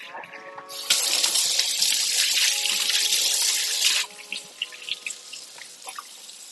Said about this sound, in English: Just rinse this off.